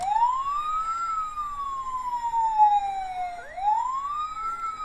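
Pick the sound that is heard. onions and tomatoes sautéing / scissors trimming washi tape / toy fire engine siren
toy fire engine siren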